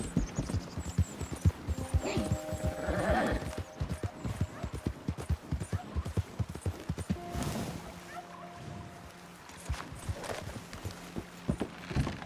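Horse hooves gallop in Red Dead Redemption 2, a fast, loud, continuous clip-clop rhythm running throughout, with a horse snort or whinny partway through and brief game sounds layered in.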